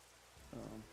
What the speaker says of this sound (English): The rain sounds really realistic here.